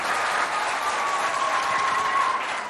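An audience at a school contest applauds the competing schools in Moundou, a loud, continuous wash of clapping that holds steady throughout.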